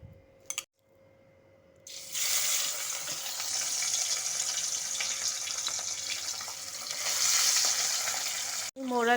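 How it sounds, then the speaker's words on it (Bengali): Mourala fish coated in salt and turmeric drop into hot mustard oil after a brief quiet moment, bursting into a loud, steady, close frying sizzle that holds strong to the end. "এখন আমি ওই তেলের মধ্যেই লবণ হলুদ মাখানো মৌরালা মাছটা দিয়ে দেবো।"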